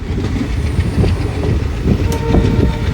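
A passenger train on the Kollam to Sengottai route rolls along, its steady low rumble and clatter of wheels continuous and fairly loud, with faint higher squeals from the rails.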